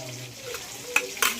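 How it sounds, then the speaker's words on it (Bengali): A metal spatula scrapes and stirs chili into food in a pan for mutton curry over a soft sizzle, with a couple of sharp metallic scrapes close by. "এবার এই খুন্তিটা দিয়ে লঙ্কাটাও মাখিয়ে নেব"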